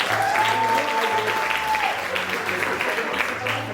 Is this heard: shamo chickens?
no